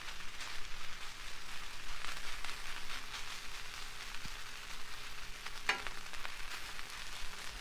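Rice fries on a Blackstone griddle with a steady, dense sizzle that stays even throughout, punctuated by a couple of faint clicks of a metal spatula.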